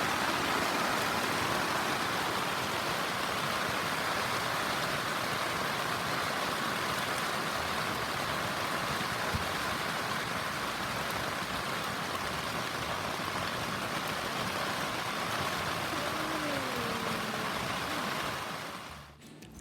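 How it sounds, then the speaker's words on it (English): Steady rain falls in Gatlinburg, Tennessee in spring, a constant soft hiss held at even level throughout with faint background noises, fading out at the very end. "Thought I'd let you listen to the rain."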